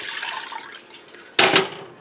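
Vegetable cooking water and turkey juices splash into a pan of gravy: a soft trickling pour, then a brief louder double splash near the end.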